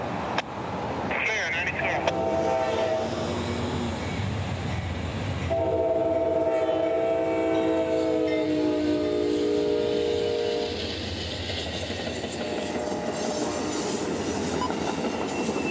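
CSX train 92 rounding a near 90-degree curve on the A-line of the Carters Sub in Central Florida, its horn sounding in long sustained blasts over the steady rumble of the passing train, with a voice speaking over it.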